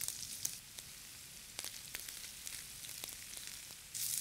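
Chopped garlic, finely chopped ginger, sliced onions and green chilies sizzle steadily in hot oil for a spring roll filling, a close, continuous crackle with scattered sharp pops.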